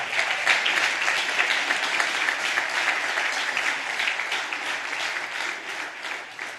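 Sustained audience applause fills a church service, dense clapping from many hands held at a steady, loud level throughout without pause.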